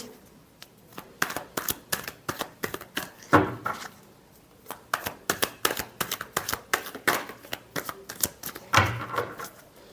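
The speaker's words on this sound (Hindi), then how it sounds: "last shuffle" Tarot cards are shuffled over and over in quick riffling and tapping bursts, close and crisp, with no talking.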